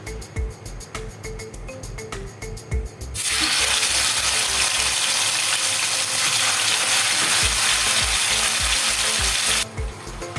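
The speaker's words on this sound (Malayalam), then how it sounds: "വെളിച്ചെണ്ണ ഒഴിച്ചു, ചൂടായിട്ടുണ്ട്. നമുക്കിനി ചിക്കൻ ഇട്ട് കൊടുക്കാം." Marinated chicken pieces dropped into hot coconut oil set off a loud, dense sizzle for several seconds, framed before and after by a steady rhythmic thumping in the background.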